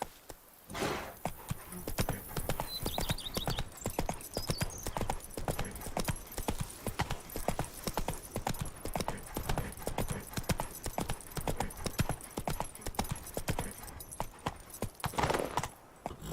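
Horse hooves clip-clop at a steady trotting rhythm while riding in The Witcher 3 video game, loud and close, running continuously over a faint background with jingling tack.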